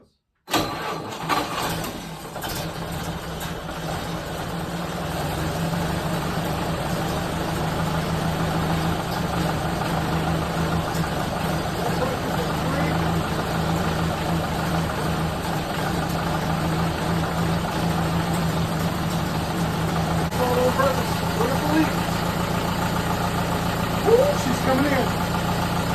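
A reworked Ford Model A engine cranks and catches, then settles into a steady, loud idle that runs on throughout, with a person talking briefly over it.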